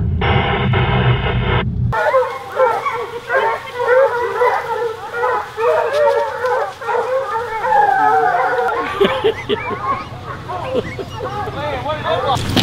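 Hunting hounds bay and howl continuously while chasing a bear in the West Virginia woods, a loud, rhythmic chorus of overlapping dog voices at mid distance, with a brief radio burst and some talk mixed in.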